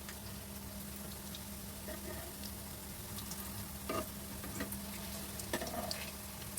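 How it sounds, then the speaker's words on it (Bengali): Soybean kofta balls fry in a pan, a faint even sizzle with a low hum beneath and a few brief spatters and clicks as they cook. "ভালো করে একটু ভাজাটা হোক, তারপর আমরা আবার ফিরে আসছি।"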